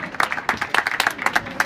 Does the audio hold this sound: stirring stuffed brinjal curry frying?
no